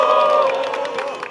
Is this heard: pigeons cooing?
no